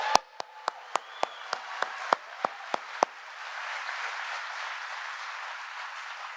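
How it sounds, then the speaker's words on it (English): Sharp, evenly spaced single claps lead into steady, broad crowd applause for the President at an IBM site in Poughkeepsie, the clapping swelling and holding to the end. "we should give another round of applause for the President to come out here to Poughkeepsie"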